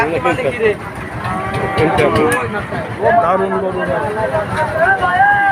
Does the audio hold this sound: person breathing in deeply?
no